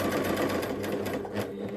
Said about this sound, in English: That little noise that you're hearing as I make the adjustments and changes, it's actually just the machine calibrating and resetting itself